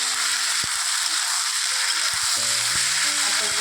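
Potato and pea curry stirred in a hot pan, loud continuous sizzling with a few scraping knocks from the spoon over about four seconds.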